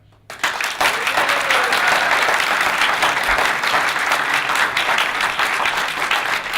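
Audience applause at a mayoral debate, a burst of steady clapping from a seated crowd that begins suddenly after a brief quiet moment and holds loud and even throughout.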